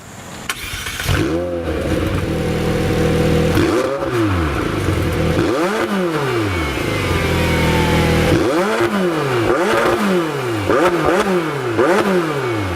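A parked McLaren 720S with the optional sport exhaust revs repeatedly, each blip rising and falling in pitch, loud and close over a continuous idle rumble.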